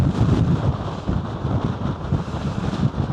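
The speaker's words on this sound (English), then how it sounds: "It's just so windy" Strong wind buffets the microphone on an exposed coastal clifftop path, making a loud, continuous roaring rumble with gusty surges throughout and no voices.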